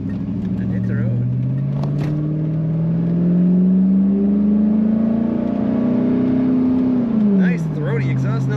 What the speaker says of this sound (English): Nice throaty exhaust note coming from this car.